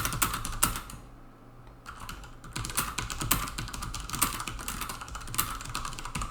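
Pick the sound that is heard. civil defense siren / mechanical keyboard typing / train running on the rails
mechanical keyboard typing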